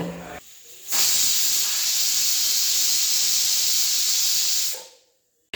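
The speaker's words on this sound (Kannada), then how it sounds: "ಇವಾಗ ಮಿಕ್ಸ್ ಮಾಡಿ ಕುಕ್ಕರ್ ಲಿಡ್ನ ಕ್ಲೋಸ್ ಮಾಡಿ 1 ವಿಷಲ್ ಕೂಗಿಸ್ಕೊಳ್ಳಿ" A pressure cooker lets out one long, loud, steady hiss of steam lasting several seconds, then cuts off, while cooking ginger garlic pepper rice in a kitchen.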